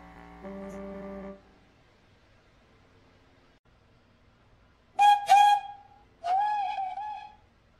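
Two unfamiliar engine whistles sound in turn, each a loud clear steam-style blast rising then holding, preceded by a softer held horn tone and quiet gaps between.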